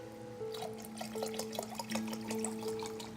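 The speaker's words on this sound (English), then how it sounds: "top it off with some seltzer water." Seltzer water poured into a non-alcoholic lemonade, giving a close, bubbly trickle with fizzy crackling pops and small liquid splashes throughout, alone.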